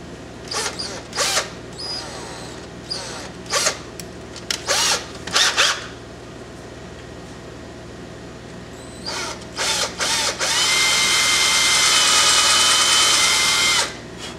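Power drill with a 3/16 bit boring holes in a wooden coffee pot carving, in several short bursts followed by one longer steady run, close by.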